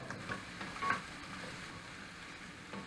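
Onions frying over medium heat in a pan for tri tip beef stroganoff, a soft, steady sizzle with a few faint stirring clicks, quiet and close.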